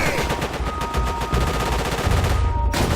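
Rapid machine-gun bursts from a Japanese MG in a combat game hammer on continuously, with close, dense cracks and a few overlapping heavy thumps.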